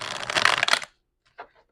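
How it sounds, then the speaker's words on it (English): A quick rustling riffle of tarot cards being shuffled lasts under a second, followed by silence and a soft, brief tap of cards settling. "Taurus, we'll do one more shuffle"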